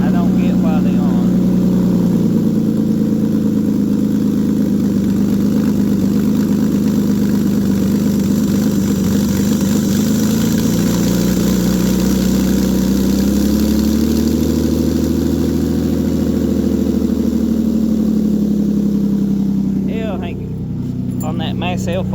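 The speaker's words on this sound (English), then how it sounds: "Fans shouldn't be on right now. I don't get why they're on." A car engine idles steadily while the radiator cooling fans whir continuously at close range, a loud constant drone that dips slightly near the end.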